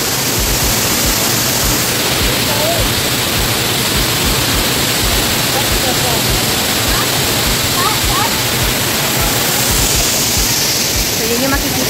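Mimbalot Falls in Buruun, Iligan City, pouring in a steady, loud broadband roar of falling water that stays constant throughout, with no voices standing out.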